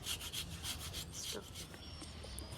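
Himsagar mango being mashed and rubbed by hand, a steady, close, moist rubbing and squishing that continues without pause and with no talking.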